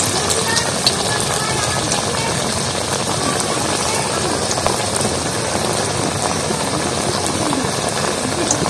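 Gadal leaf fritters (bora), shaped by hand and flattened, fry in hot oil with a dense, loud, steady crackling sizzle like rain on a surface.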